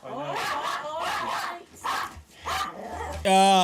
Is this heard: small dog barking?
yes